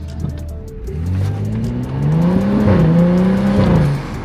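A BMW 335i engine with a throaty aftermarket exhaust revs up and holds a rising drone, loud and close.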